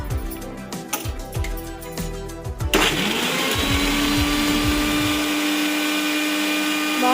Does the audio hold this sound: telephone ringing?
no